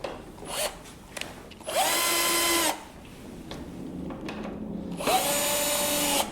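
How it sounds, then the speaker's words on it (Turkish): A cordless drill whirs in two short bursts, winding up and slowing as it drives screws while mounting a Garrett Paragon walk-through metal detector, with light handling knocks between. "Şarjlı matkapla hızlı bir şekilde yapabiliriz."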